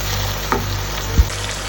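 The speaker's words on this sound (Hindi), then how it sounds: "और इसे अच्छे तरीके से हिलाते दें। 5 मिनट तक और हमने इसे भूनना है" Chicken karahi sizzles and fries in a pan while being stirred, a loud continuous hiss with a couple of soft scraping knocks from the spoon, no voices.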